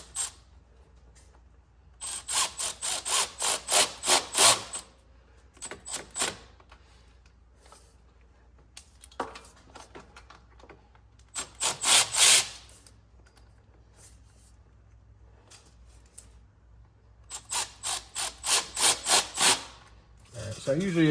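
Hose clamps being run down on an intake boot during a 6.7 Powerstroke intake manifold install, heard as close bursts of rapid ratcheting clicks in several separate runs with quiet pauses between.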